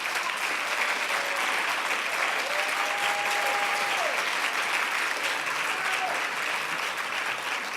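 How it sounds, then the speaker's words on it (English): A lecture audience applauds and cheers for a staff member at an annual lecture on race in American society, with dense, sustained clapping throughout and a few voices whooping above it. "The reason there is so much cheering"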